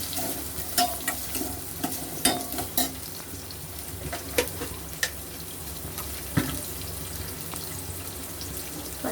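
Chopped onions frying in a pan for a chicken gravy curry, with a steady sizzle under repeated stirring scrapes and occasional clinks over about nine seconds.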